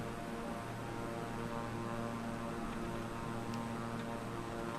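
A steady, droning propeller aircraft engine in Microsoft Flight Simulator 2020, flying through a tropical storm, holding a constant hum and buzz throughout with no voices.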